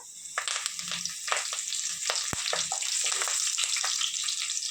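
Cumin seeds and curry leaves sizzle and crackle steadily in hot ghee in a pan, with small pops and a spoon stirring now and then.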